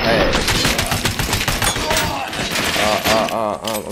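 Rapid gunfire in the Robocop video game: dense, loud bursts of automatic shots with impacts and breaking sounds, continuous throughout with speech mixed in.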